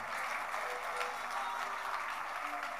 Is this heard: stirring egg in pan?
no